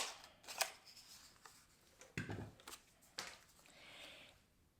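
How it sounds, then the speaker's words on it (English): A handheld paper punch cuts a circle from scrap paper at a craft table, giving a few crisp clicks and snaps with some rustling of paper between them, quiet and close. "I'm just going to punch out a circle."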